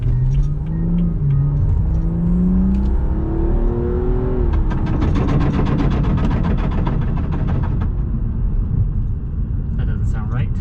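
A BMW M235i with the N55 engine idles and revs on a test run after a charge pipe install, its loud engine drone rising and falling steadily through the whole stretch with a rough, buzzy edge.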